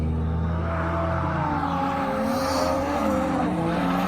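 A drift car on a Japanese racetrack, following Adam LZ's car: loud, continuous tire squeal layered over a revving, shifting engine note, close and sustained without pause.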